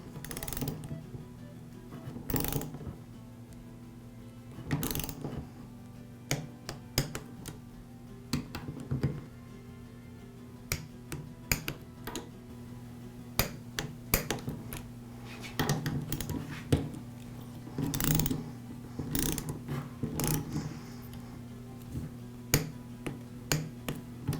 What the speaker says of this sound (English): I'll torque the head bolts in a crossing pattern.